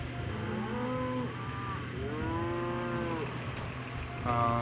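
Several cows moo in long drawn-out calls, one after another over a steady low background hum, in the video game Nancy Drew: Trail of the Twister.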